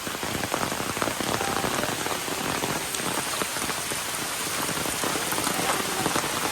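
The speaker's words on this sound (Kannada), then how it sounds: "ನೋಡಿದ್ರಲ್ಲ ಎಷ್ಟೊಂದೆಲ್ಲ ಮಳೆ ಹೋಯ್ತಾ ಇದೆ ಅಂತ." Heavy rain falls in a dense, steady hiss and patter on surfaces, close and loud without any letup, with no voices.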